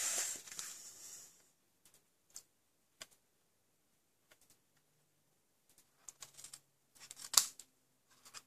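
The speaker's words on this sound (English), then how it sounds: "I'm going to cut that straight. I don't need that flap." Scissors snip a paper flap off an envelope in a quiet room: one longer rustling cut at the start, then scattered faint clicks and a few sharper snips close by, with no voices.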